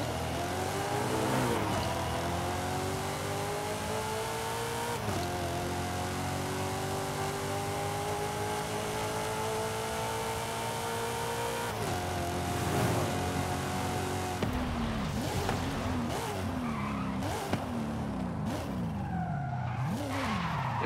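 An LS-swapped Subaru drag car roars off the line in Forza Horizon 5, its V8 engine revving hard through several rising gear pulls with tire squeal and skidding, loud and continuous for the whole stretch.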